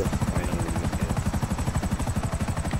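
A helicopter in GTA 5 Online thuds close and loud with rapid, even rotor chops pulsing steadily throughout, engine whine underneath and no talking.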